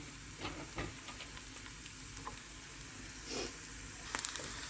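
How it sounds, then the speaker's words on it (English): Onions sautéing in a pot over a low flame give a steady, soft sizzle throughout, with occasional louder crackles and a brief stir-like scrape near the end. "Now I'm going to add my onions to the pot, and of course on low flames, and allow it to saute."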